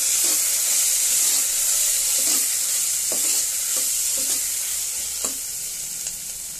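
Turmeric stirred into a frying curry base for beerakaya pappu, a loud, continuous hiss of oil with scraping stirs at irregular intervals, close up and with no voices.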